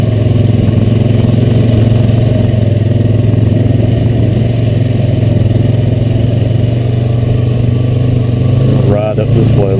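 A Honda Rancher 420AT ATV engine running steadily while riding a land trail at Montague, a loud, close, continuous mid-pitched drone with a brief change in tone near the end.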